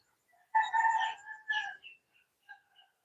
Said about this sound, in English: I've got a rooster out there. He's a Branham